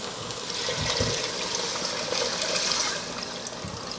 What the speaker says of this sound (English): now we're gonna add veggie stock